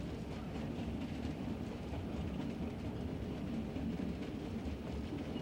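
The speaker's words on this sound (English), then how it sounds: "The passenger experience begins with a steam engine ride through the town." A narrow-gauge steam train runs through town with a steady, continuous rumble of wheels and rolling stock. The sound is even and unbroken, with no voices.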